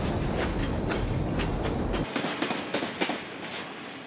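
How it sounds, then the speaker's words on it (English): A CSX train rumbles past on the rails, heavy low roar at first, then rhythmic clickety-clack of wheels over track joints continuing steadily. "A whistle was coming from a CSX train on the next track"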